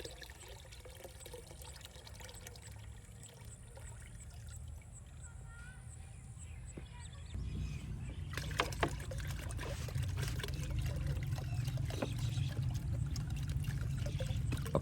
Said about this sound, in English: pour in the liquid from both the onion and potato peel containers